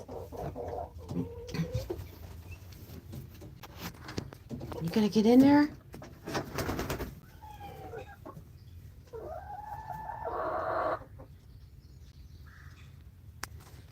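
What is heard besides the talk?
chickens clucking in a chicken house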